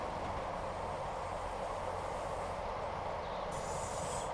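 Commuter train running toward Manchester Airport in Train Sim World 5, a steady loud rumble of wheels on rail with a broad hiss throughout and a faint high squeal near the end, without pauses.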